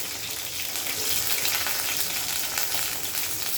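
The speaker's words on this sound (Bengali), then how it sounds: "পেঁয়াজগুলো দিয়ে এটা হালকা করে ভেজে নেব" Onions sizzle in hot oil in a pan at the start of a fish curry with ridge gourd and potato, a loud, steady, close frying hiss with no talk over it.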